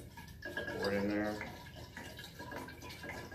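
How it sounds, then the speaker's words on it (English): Sweetened black tea for kombucha poured from a bottle into a container, a short gurgling splash of liquid lasting a few seconds, fairly quiet and close. "Pour it in there."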